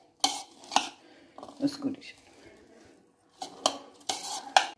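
Vegetable salad tossed with two spoonfuls of olive oil using a large spoon: several sharp metallic clinks and scraping stirs against the bowl in bursts, close and clear, with a brief spoken word in between.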